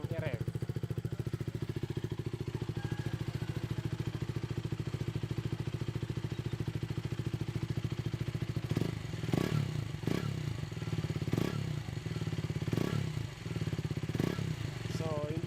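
A KTM Duke 200 motorcycle fitted with an Akrapovic titanium slip-on exhaust idles with a steady bassy rumble, then gives several sharp revs in quick succession, each throttle blip loud and close.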